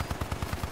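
Automated turrets fire in the video game Hypercharged: Unboxed, a steady stream of quick, evenly spaced shots rattling at a moderate distance, fairly quiet, with no talking.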